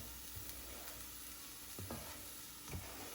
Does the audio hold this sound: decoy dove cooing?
no